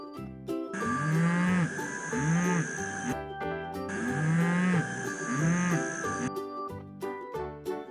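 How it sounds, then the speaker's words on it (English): A low, drawn-out mooing from a toy ox on a farm, repeated as two long calls over a busy, jingly backing of music. "Can you make a low moo like Oscar?"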